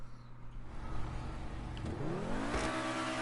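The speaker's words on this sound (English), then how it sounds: "can I just mention how awesome this car sounds?" A car engine revs hard in GTA Online with rising whine, pitch sweeping up over a few seconds, steady loud mechanical roar throughout, no voices.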